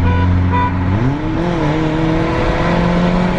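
An Audi and a VW Gol launch hard from a standing start, the engine note climbing loud and close as revs rise through a gear, then settling into a strong sustained drone.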